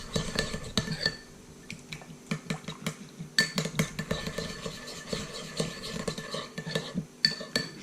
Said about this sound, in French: Et vous allez venir mélanger.